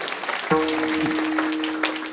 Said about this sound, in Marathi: त्या मातेसाठी एकदा जोरात टाळ्या वाजवा